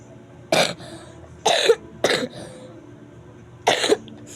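Four separate coughs from one person, close and moderately loud, with short quiet gaps between them and no speech.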